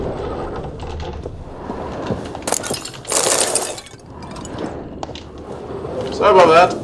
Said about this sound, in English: Well, that's ended up shattering a whole lot of things.